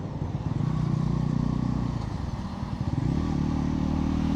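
A 2025 Bajaj Pulsar NS 400Z motorcycle engine drones steadily under way, its pitch dipping briefly around a gear change before settling back into a strong, close, even hum.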